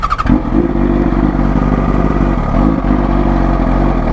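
A 2008 Yamaha R1 sportbike with an aftermarket exhaust idles close by, a loud, steady, throbbing engine and exhaust rumble with slight fluctuations and no talk.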